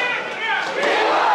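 Crowd of demonstrators shouting encouragement to police officers, a loud, close, continuous roar of many raised voices with cheering mixed in over about a second and a half.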